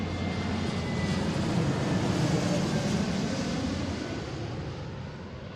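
An Airbus airliner on short final to runway 34L passes with a broad, steady engine roar that swells and slowly fades, with people talking over it and radio chatter.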